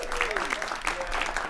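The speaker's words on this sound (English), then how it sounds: "give Bill a round of applause" Church congregation clapping at a Sunday service, a short steady patter of hands with a voice speaking over it.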